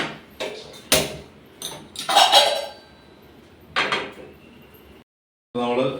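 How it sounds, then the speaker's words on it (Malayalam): Metal cookware clanks and scrapes nearby in several separate bursts, a frying pan set down on a stove with clattering knocks between short quiet pauses. "മീൻ വറുക്കാനായിട്ട് പാനൊന്ന് അടുപ്പിലോട്ട് വെക്കാം"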